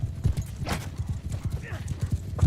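Horse hooves clip-clop in a quick steady rhythm while riding in Mount & Blade II: Bannerlord, close and fairly loud, with a voice talking over the hoofbeats.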